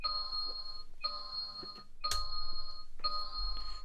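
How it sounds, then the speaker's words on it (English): A security alarm set off by an armed side door beeps in repeated long electronic tones, sounding four times with short gaps between, steady and moderately loud. "so the alarm went off."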